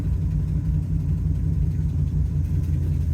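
A 1970 Dodge Challenger 440 Six Pack R/T clone with a badly leaking header, its engine giving a steady, loud, low rumble throughout a short stretch with no talking.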